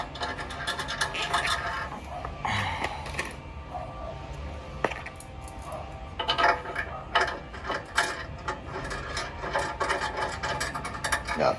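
Metal bolts being hand-threaded into the mounts of a Rock-Slide Engineering step slider on a 2-door Jeep JL Rubicon, heard as close, irregular scraping, clinking and ratcheting mechanical noises with scattered rubs, no talking.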